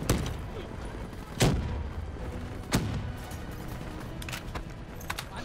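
Gunfire in the Call of Duty: Black Ops 3 campaign: a steady din of battlefield shooting with two sharp, louder shots standing out near the start and middle, plus scattered distant cracks throughout.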